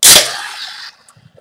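Opening a bottle of Samuel Adams Nitro White Ale: a loud, sharp burst of pressure escaping, then a rushing hiss that fades out within about a second, leaving near silence.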